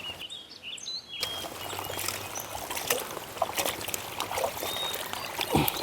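Water pouring and splashing as raw meat is rinsed for Kerala-style kappa biryani, a steady close trickle with occasional clattering and sloshing bursts.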